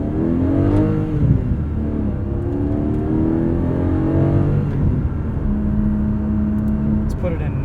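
A 2021 Porsche 718 Cayman GTS 4.0 engine revs up and down in several rising and falling sweeps, with quick rev-matching blips between gear changes, close and fairly loud.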